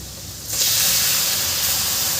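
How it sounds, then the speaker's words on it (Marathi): Finely chopped tomatoes tipped into a hot pan for methi aalan set off a loud, abrupt sizzle that holds as a steady, bright hiss, with no voices. "इथे मी बारीक चिरलेले टमाटर घातले आहे"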